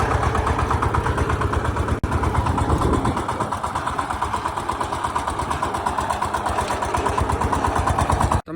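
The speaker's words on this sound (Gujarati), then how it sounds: "ટ્રેક્ટર શરૂ છે કપાસમાં એટલે ખેતરમાં છીએ આપણે." A tractor engine runs steadily in a cotton field, a loud, close, rhythmic mid-pitched chugging that stays continuous throughout with no talk over it.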